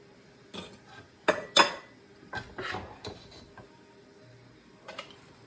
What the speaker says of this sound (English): I'm going to go ahead and start ladling them into my jars.